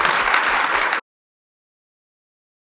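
Applause from the audience at a UK conference on care careers for young people: a dense burst of clapping that lasts about a second, then cuts off into silence.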